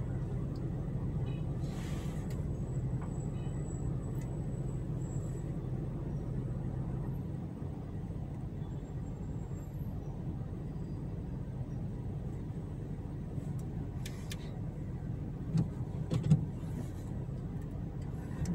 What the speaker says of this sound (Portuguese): Os motoqueiros cortando os carros por dentro.